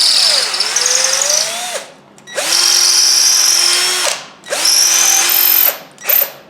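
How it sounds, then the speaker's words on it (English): Power drill boring a deep hole in wood in three pecking bursts, each whining up to speed, holding steady, then stopping with short pauses between; loud and close with no talking. "when you're doing deep drilling, you want to do what's called pecking"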